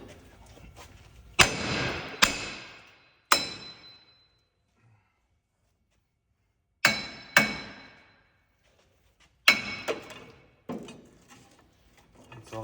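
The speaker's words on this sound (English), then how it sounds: "A couple good whacks and she's off of there." Hammer blows on a wheel bearing hub of a 2006 Sierra Silverado 2WD, sharp metallic whacks in small bursts of two or three, ringing briefly, separated by quiet pauses.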